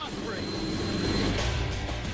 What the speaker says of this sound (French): je vole à bord d'un Osprey